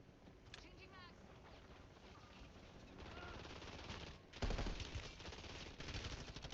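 Steady rapid gunfire rattles through a shooter video game match, faint and continuous, with voices talking over it.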